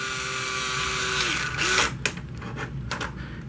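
A Carrera Digital 1/32 slot car in Richard Petty 1960 Plymouth Fury livery whirs steadily with a high electric motor whine, its pitch dropping then briefly rising before a few clicks and clatters as it runs on the track.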